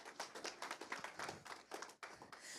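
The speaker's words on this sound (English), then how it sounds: "So tonight, yes, you can clap, that's okay." Audience at a school board meeting clapping to welcome a high school UIL one-act play cast, a steady patter of many hands that is fairly faint and continuous.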